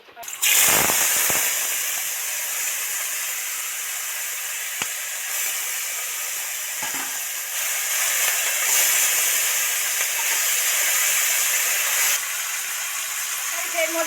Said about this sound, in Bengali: এবারে চিংড়ি ম্যারিনেট করে চিংড়িটা তেলের মধ্যে ছেড়ে দিচ্ছি